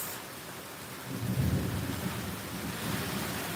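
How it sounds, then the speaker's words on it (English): Thunder rumbles low and heavy through a nasty thunderstorm, swelling after a second and rolling on over steady rain hiss, with no talking. "I don't know if y'all can hear all the thundering and lightning."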